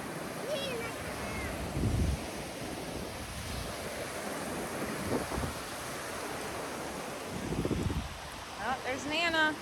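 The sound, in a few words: ocean waves at the beach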